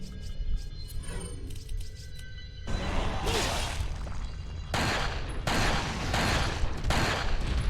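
Grenade explosions in the video game Resident Evil 4, a run of loud broadband blasts after a quieter start, coming in several separate bursts close together.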